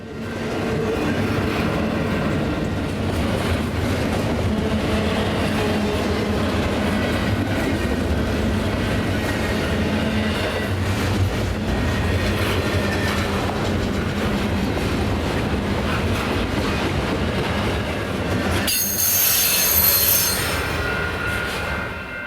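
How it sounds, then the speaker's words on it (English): A southbound BNSF intermodal freight train, running on trackage rights toward Eagle Pass in San Marcos, Texas, rolls past close by with a steady heavy rumble, rail clatter and wheel squeal throughout, plus a sharp high screech near the end; no voices. "This is another southbound BNSF train running with trackage rights. It is also an intermodal heading for Eagle Pass."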